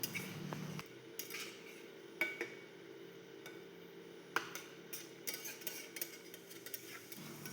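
Spices and poppy seed paste are stir-fried in a pan. The sound is quiet, with sporadic clinks and scrapes of a utensil against the pan over a faint, low sizzle.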